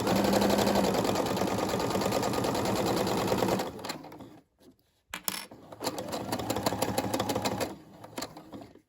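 A Brother SE600 sewing machine stitches a fabric key fob in a rapid, steady mechanical chatter, pauses briefly with a couple of clicks, then resumes stitching before stopping again.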